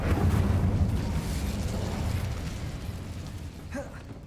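The Incendio fire spell is cast in a video game as a loud whooshing burst of flame that rumbles at first and then slowly fades, with a brief voice near the end.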